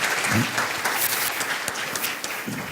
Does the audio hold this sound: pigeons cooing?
no